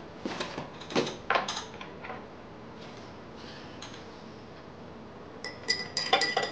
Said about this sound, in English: So we'll have to mix it until everything is dissolved in water.